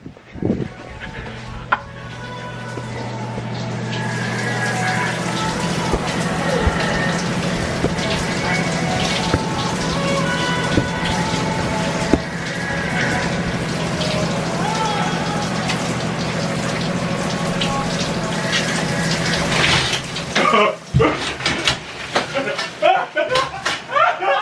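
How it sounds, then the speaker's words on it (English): Orbeez tipped into a pot of water make a steady rushing, splashing pour that runs for around twenty seconds before breaking into scattered splashes and knocks, close and loud. "Here go the Orbeez, y'all. I put them in a freaking pot."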